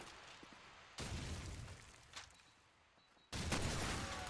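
Gunfire in Call of Duty 4 during a competitive match, two sharp bursts of shots about two seconds apart, each followed by a decaying rumbling tail, fairly quiet overall with no speech.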